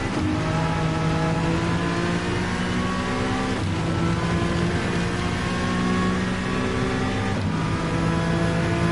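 Race car engine in the Gran Turismo video game on a wet Red Bull Ring circuit, holding a loud steady high-revving drone with repeated upshifts and pitch climbs throughout, no voices over it.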